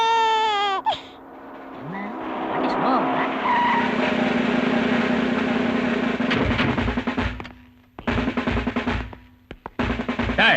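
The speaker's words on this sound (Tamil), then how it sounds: "ஏய் பெரிய வண்டியா வருது" A big vehicle approaching on a road with tires skidding, a long, loud roaring screech that builds and then breaks into choppy bursts, with shouting and a crying-like wail over it.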